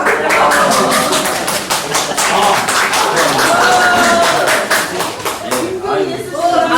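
An audience claps in a lecture setting, a brisk patter of many hands that rises and falls while a voice keeps talking over it before the clapping thins out near the end.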